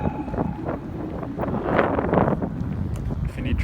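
Gusty wind buffets the microphone in a continuous low roar, swelling slightly midway, with faint indistinct voices underneath.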